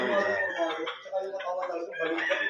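A game farm rooster crows close by in a long, harmonic, wavering call lasting a couple of seconds, loud and clear with faint background murmur.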